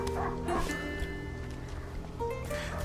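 A dog barks and yips in the adventure game A Plague Tale: Innocence, a few sharp calls and whimpers over a busy in-game background, with a voice speaking at points.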